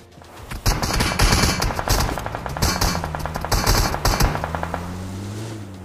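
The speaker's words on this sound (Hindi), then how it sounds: "गोलियां वगैरह चलाई जा रहे थे" Rapid gunfire in a battle royale video game, dense bursts of automatic shots crackling loudly and close for several seconds before tapering into a lingering engine-like drone.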